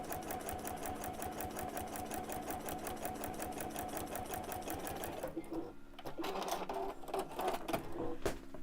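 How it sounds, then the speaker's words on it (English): A sewing machine stitches a fabric seam at a steady, rapid rhythm for about five seconds, then stops, leaving quieter handling sounds and faint movement nearby. "we'll sew all the way around"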